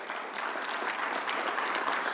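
Steady applause from a crowd at a New York governor's announcement, a dense continuous patter of clapping hands at even loudness throughout.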